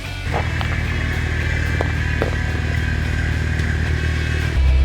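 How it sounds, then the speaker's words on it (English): A steady, low idle from a Jeep Safari Concept's Pentastar engine with a throbbing exhaust rumble, close by, with a few faint clicks and a slight rise in pitch near the end. "The exhaust sounds a little different."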